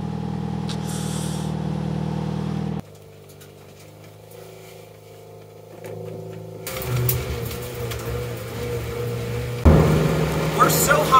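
A Toyota Yaris engine revs at high elevation, straining to climb, with a steady humming drone that shifts pitch across the clip and grows rougher and louder toward the end.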